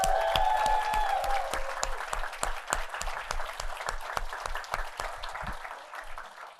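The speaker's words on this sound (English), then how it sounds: "Let's have a round of applause for everybody." Audience applause at the Grad Slam 2025 event, many hands clapping in a lively roomy patter with a few louder individual claps, tapering off near the end.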